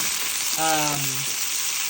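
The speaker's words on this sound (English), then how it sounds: "You're just kind of frying and toasting" Oil sizzling and crackling steadily as salsa ingredients fry and toast in a pan, with a brief tonal squeak partway through.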